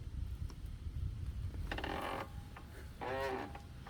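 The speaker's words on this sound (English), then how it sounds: "That's why you hear creaking." Front suspension on a Yamaha TTR125 dirt bike creaks in two distinct squeaky bursts over a low background rumble, with no talking.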